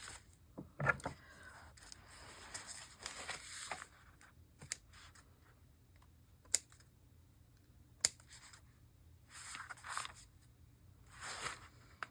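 Scissors snip paper for an art journal in a few quiet, scattered cuts with sharp clicks between pauses, close by with no talking.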